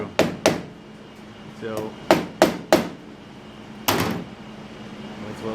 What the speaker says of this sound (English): I took my little hammer here. See there, it ain't hard to go through.